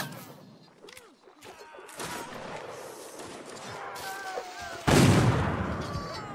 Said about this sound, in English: Cool cannon fire right up close.